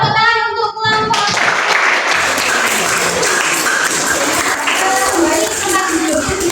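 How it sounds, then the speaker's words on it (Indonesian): Applause for a student group in a school classroom, a burst of many hands clapping together that starts abruptly after a spoken prompt and continues steadily, with children's voices mixed in. "Tepuk tangan untuk kelompok."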